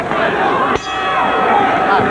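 A single bell clang marks the start of round two at a Golden Gloves amateur boxing championship bout in an arena, one brief strike over steady crowd hubbub.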